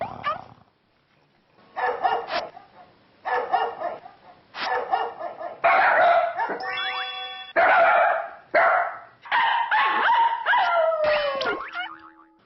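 A dog yips and howls in repeated bursts, joining in with music playing nearby; the howls rise and bend in pitch and grow louder and longer toward the end.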